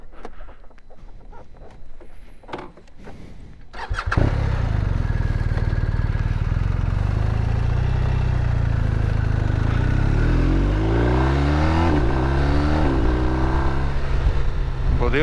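A 2021 BMW R 1250 RT Sport motorcycle starts with a sudden burst after quiet handling sounds, then its engine drones loudly and continuously as it rides off and accelerates, rising through gears up close; a voice is faintly heard early on.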